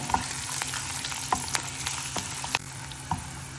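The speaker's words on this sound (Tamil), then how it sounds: "இப்போ நம்ம முந்திரி நல்லா வறுபட்டுருச்சு." Cashews fry in a pan for rava semiya kitchadi, a steady close sizzle broken by a few light taps and scrapes of stirring.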